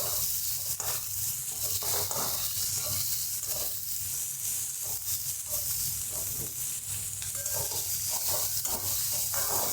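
Onion sautéing in a pan for matar bhaat gives a steady, close sizzle and hiss that runs the whole time, with faint stirring scrapes and no talk.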